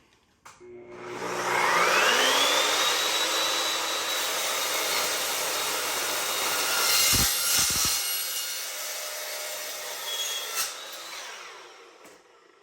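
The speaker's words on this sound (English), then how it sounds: "The beauty of it is it's a cold saw, so the cut is not hot at all." An Evolution S14MCS metal cold miter saw spins up with a rising whine, cuts steadily through metal with a loud sustained grinding, then winds down, close and with no talking.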